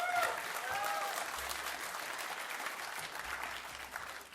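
A debate audience breaks into sustained applause and cheering that fills the hall, with a few voices shouting over the clapping.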